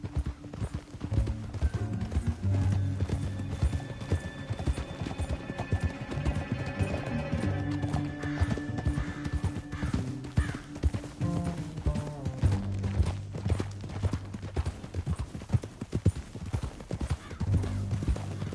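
Horses trotting in Red Dead Redemption 2, a steady rhythmic clip-clop of several hooves up close throughout, with an occasional whinny and faint background music.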